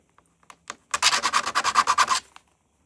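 Stainless steel scrap being filed by hand, a run of about ten quick, rasping strokes in a steady rhythm, close and fairly loud, preceded by a few light taps and scrapes.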